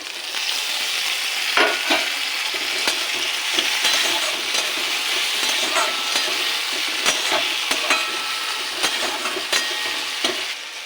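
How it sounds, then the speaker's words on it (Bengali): Chopped tomatoes fry with onions in a pan, a loud continuous sizzle broken by scraping stirs at irregular intervals, close and without talk. "এবার দিয়ে দেবো টমেটো কুচি।"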